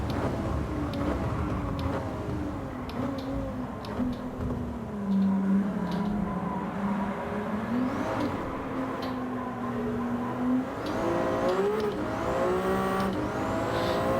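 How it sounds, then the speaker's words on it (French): Car engines in a Gran Turismo 7 circuit lap, a continuous loud droning engine note that rises and falls with shifting revs and gear changes, steady throughout. "les moteurs, les sons des moteurs dans Gran Turismo est vraiment pas terrible quand même"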